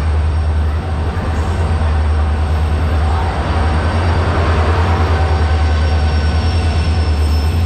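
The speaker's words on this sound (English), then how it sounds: "So apparently the train is coming" A train arriving at a station rumbles steadily close by with a deep constant drone and a faint high squeal of wheels, no voices heard.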